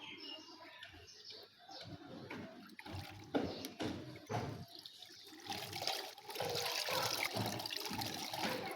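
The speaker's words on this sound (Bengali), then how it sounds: "এই শ্যাম্পুর পানিটা ভালো করে ধুয়ে ফেলতে হবে" Water trickling and splashing while shampoo is rinsed off a cat during its bath, uneven pouring that grows louder and steadier toward the end, fairly close and alone.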